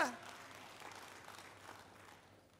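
Church congregation applauding at a worship service, a soft, steady patter of many hands that fades toward the end, fairly distant and low in level.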